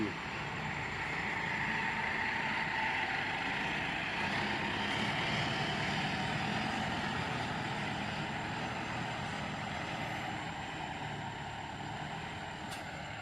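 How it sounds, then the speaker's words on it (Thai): A Kobelco SK140 excavator with a four-cylinder turbo engine runs steadily nearby, a constant low diesel drone and hum with no clear breaks. "ตัวนี้เป็นเครื่อง 4 สูบครับเทอร์โบครับ"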